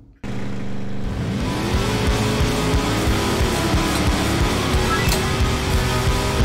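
A car engine in a stunt driving video game starts abruptly and drones loudly, revving and shifting pitch steadily throughout with no talking.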